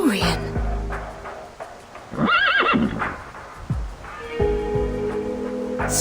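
Horses in the Reverse: 1999 video game whinny loudly in a clear rising-and-falling call, surrounded by clip-clopping hooves and low rumbling game sounds, with a voice speaking briefly.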